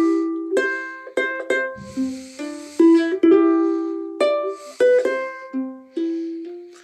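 A solo ukulele picks the main theme of Here Comes the Bride in clear plucked notes with a few chords, at a steady, unhurried pace and close up, with no talking.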